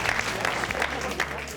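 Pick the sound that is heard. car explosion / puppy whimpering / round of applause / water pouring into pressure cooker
round of applause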